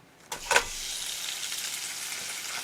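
Japchae ingredients tipped into a pan of hot olive oil hiss into a loud, steady sizzle after a brief clatter, continuing evenly with no one speaking.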